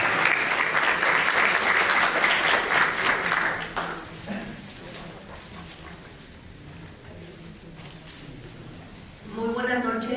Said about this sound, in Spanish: Recibamos entonces con aplausos